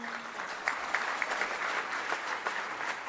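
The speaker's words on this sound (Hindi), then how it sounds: "ताली बजा दो एक बार सब।" A crowd at a political gathering applauds in a brief, steady round, with a few sharper claps standing out from the wash of hands.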